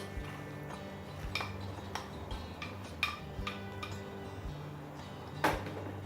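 Pre-boiled green lentils being added to a pot of Turkish tutmaç yogurt soup, with sharp spoon-on-pot clinks and clatter spaced irregularly over a quiet background.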